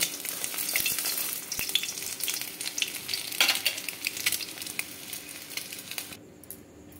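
Boiled potatoes coated in turmeric fry in a pan for an egg and potato curry, giving a steady, close hiss and crackle with occasional stirring scrapes. No one speaks.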